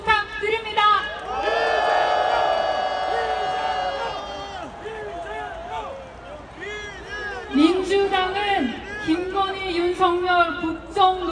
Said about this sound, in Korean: 다시 한번 큰 함성 부탁드립니다